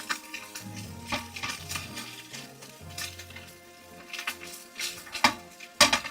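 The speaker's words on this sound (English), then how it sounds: "You hear that nice sizzle." Fish frying in hot fat in a pan, a steady broadband sizzle with crackling bursts, joined by faint stirring and pan clatter, close and moderately loud, with no talk.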